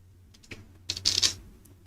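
Computer keyboard keys tapped in a short burst of clicks while coding a web page, close and moderately loud, with no talk.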